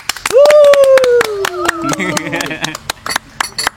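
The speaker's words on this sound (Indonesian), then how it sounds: "Tepuk tangan kru." A film crew claps in sharp, rapid bursts of many hands, loud and close, while a voice speaks over the clapping.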